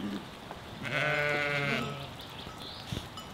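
A sheep grazing nearby lets out a single clear, drawn-out bleat at moderate distance, with a few faint rustles around it.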